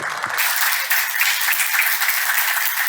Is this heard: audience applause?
yes